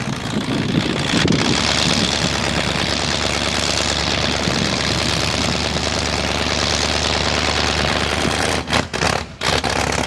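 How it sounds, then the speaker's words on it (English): A vehicle engine idles steadily and loud for most of the stretch, a constant low rumble with wind buffeting the microphone, then breaks up briefly near the end. "Or unless if he's just going to idle it."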